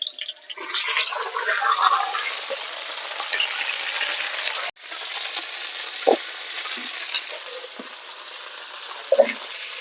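Chopped okra hits hot oil with onion in a pan and erupts into a loud, dense sizzle that settles into a steady frying hiss, broken by a few stirring scrapes and clicks near the end.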